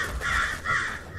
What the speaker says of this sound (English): Oh, fucking crows.